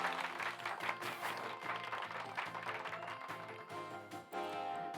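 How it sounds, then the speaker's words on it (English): Applause from a crowd in the Pokémon Scarlet video game, steady clapping that carries through several seconds over light game music, with no talking. "Give Pikachu a round of applause, everyone."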